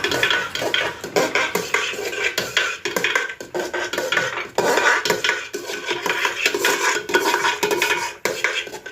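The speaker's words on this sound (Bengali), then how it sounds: "চাল এবং ডালটাকে একটু ভালো করে নাড়াচাড়া করছি।" Rice and lentils for a vegetarian khichdi stirred in a pot, with a utensil repeatedly scraping and clinking against the metal in busy, continuous strokes.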